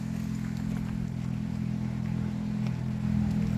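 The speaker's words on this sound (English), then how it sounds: "Very loud motorbike." A motorbike engine drones with a steady low hum, swelling slightly louder toward the end as it passes.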